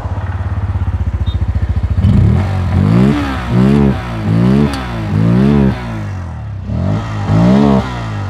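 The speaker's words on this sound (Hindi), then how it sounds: "तो चलिए इस बाइक का एक बार एग्जॉस्ट नोट भी सुन" A Bajaj Pulsar N160 motorcycle engine cranks with a fast rattling starter, catches, and then revs up repeatedly in loud rising and falling bursts close by.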